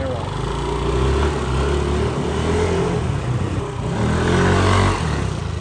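A Yamaha Aerox 4-stroke scooter engine running in Thailand, a steady close drone with rising and falling revs, while a person talks over it.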